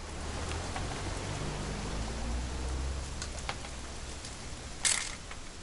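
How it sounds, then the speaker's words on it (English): Steady rain falls in the video game What Remains of Edith Finch, a soft continuous hiss throughout with a brief sharper click near the end. "It's gonna rain the whole weekend, isn't it?"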